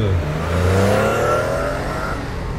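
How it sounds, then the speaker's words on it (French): A car speeds past with a rising then falling engine whine and tire rush, loud and close, rolling continuously across a couple of seconds with no voices. "une voiture passa en trombe."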